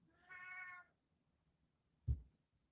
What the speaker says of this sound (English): He has the deepest meow.